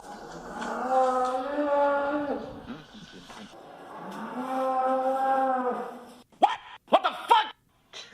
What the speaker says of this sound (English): we'll leave you with some cow birth sounds